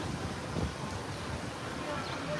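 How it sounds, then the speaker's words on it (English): Strong wind buffets the microphone in a constant, rough roar, with gusty low rumbling throughout. "it's really windy."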